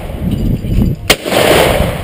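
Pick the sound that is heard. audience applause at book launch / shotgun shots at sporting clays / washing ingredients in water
shotgun shots at sporting clays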